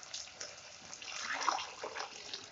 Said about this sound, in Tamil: அதுக்கு தேவையான தண்ணியை சேர்த்துக்கலாம்.